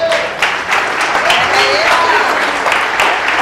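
A church congregation applauds after a hymn, loud continuous clapping close by, with faint voices and a cheer rising over the claps.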